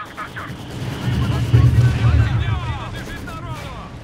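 Mortar fire in the video game Company of Heroes 2, heavy booming artillery thuds and crackling blasts building in the middle, with someone talking over the battle.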